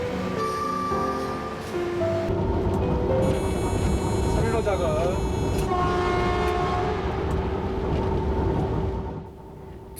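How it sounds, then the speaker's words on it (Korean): A Korean passenger train leaving the station sounds loud horn tones over a heavy engine rumble and rail noise. A voice speaks partway through, and the train noise eases off near the end. "승객들의 안전과 편의를 위해 마지막까지 기차에 떠나는 모습을 지켜봅니다."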